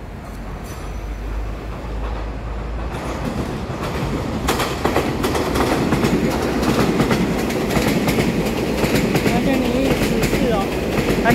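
A twelve-car EMU3000 Tze-Chiang express, set EMU3014 with a red band, working train 280 from Douliu to Hualien, passes Ruifang, building from a distant hum to a loud, close roar with rhythmic wheel clatter and faint squeals.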